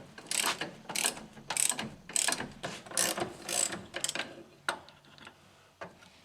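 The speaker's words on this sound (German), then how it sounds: "dann geht es mit der Ratsche weiter" Hand ratchet clicking in quick bursts while loosening a wishbone bolt on a Porsche 944 S2, about eight close, sharp ratcheting strokes followed by a few slower isolated clicks.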